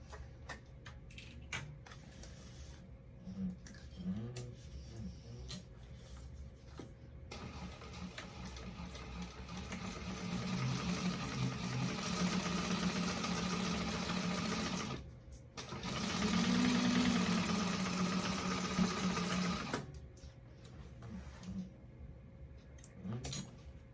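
A sewing machine stitches a quarter-inch seam across fabric pieces for a handmade bag, with two long sustained bursts of rapid motor whirring and needle clatter, separated by short pauses and ticking handling sounds.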